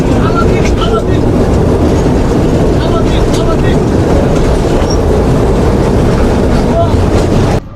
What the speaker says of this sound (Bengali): আমাদের সামনে যে জিনিসটি আসছে সেটা হচ্ছে রোড ট্রেন